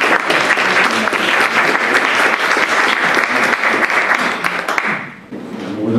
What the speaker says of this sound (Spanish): Recibamos también con un fuerte aplauso al doctor Fabián Acosta.